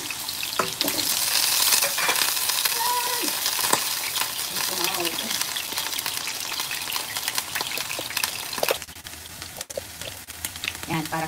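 Potatoes sizzle and crackle loudly in a hot frying pan, with intermittent stirring scrapes and clatter throughout and a brief quieter stretch near the end.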